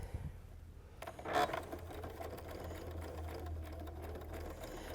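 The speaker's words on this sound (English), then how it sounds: "I'm just going to continue down and sew my 1/4 inch seam" A sewing machine runs a quarter-inch quilt seam with a steady, close mechanical hum, briefly louder and brighter just after the first second, then holding an even, continuous whir.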